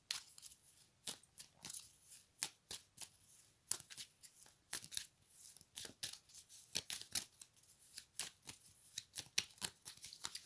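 A deck of oracle cards is cut and handled in a quiet room, giving a series of soft, sharp papery snaps and flicks at an irregular rhythm, close by.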